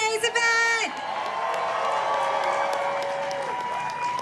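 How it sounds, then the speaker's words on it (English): A protest crowd at the No Kings rally in Austin breaks into sustained applause and cheering for an event organizer, the clapping loud and dense right after a speaker's voice at the start. "can we give a round of applause to Sophia, one of the organizers of today's event"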